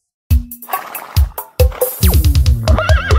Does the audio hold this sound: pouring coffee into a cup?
no